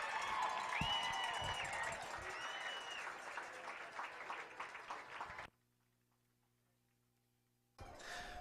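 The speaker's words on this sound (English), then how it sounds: "A huge round of applause and cheers for Ty Bova and Grace Kopak, the 2023 CVCA Homecoming King and Queen" Applause and cheering from a high school football crowd for the homecoming king and queen, a broad roar of clapping and voices with whistles, cutting to near silence before resuming briefly.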